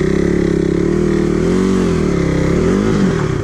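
A KTM RC 390 motorcycle on an off-road track with its engine running loud and close in a steady low rumble, the pitch rising and dipping slightly as light throttle is applied.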